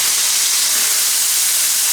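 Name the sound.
onions sizzling as they saute in a pan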